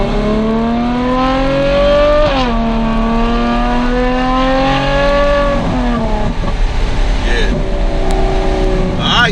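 A tuned Ferrari F12 with an FI exhaust revs hard in first gear, loud and close, its engine note rising and sagging in repeated pulls alongside a voice speaking.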